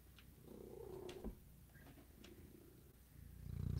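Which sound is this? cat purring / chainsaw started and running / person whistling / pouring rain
cat purring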